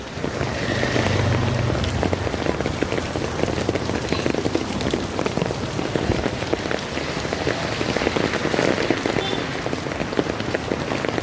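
Heavy rain mixed with hail pelting a surface in a dense, continuous clatter, loud and close, with no voices.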